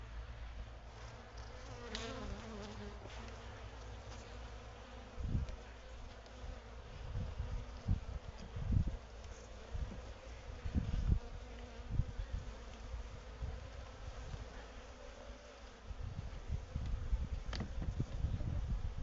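Honey bees in a hive with a laying worker and drone brood, after the queen was likely killed, give a steady close buzzing with irregular louder swells and wingbeat bursts, and no voices.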